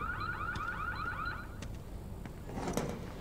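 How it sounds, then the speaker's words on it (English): A car alarm goes off in a shop in the video game Need For Speed Unbound, with a rapid series of rising whoops repeating for about a second and a half, followed by clanks and a rustling clatter, with no speech. "You triggered the alarm system."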